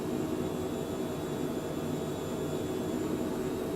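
Cessna C510 Mustang jet climbing out of San Francisco in Microsoft Flight Simulator: a steady, moderate broadband whoosh of engine noise with a faint high whine, continuous and unchanging.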